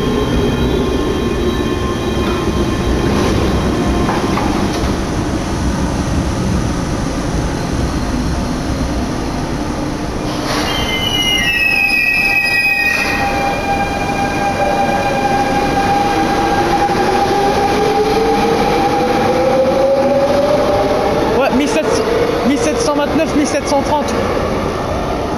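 A Paris RER A commuter train rolls along its line between La Défense and Châtelet-les-Halles with a steady loud rumble and rail noise, rising wheel squeals and screeches near the middle and end, and a platform announcement voice heard over it.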